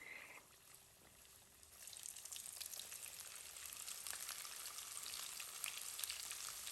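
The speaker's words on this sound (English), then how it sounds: "We're frying the chicken lollipops." Chicken lollipops deep frying in hot oil, a steady crackling sizzle that starts faint and swells after a couple of seconds into dense, continuous bubbling with scattered pops, close by.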